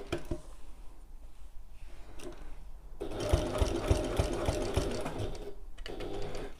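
Sewing machine stitching a satchel panel near a metal zip stopper, with quiet handling noise before the motor starts and then a steady close run of rapid stitching.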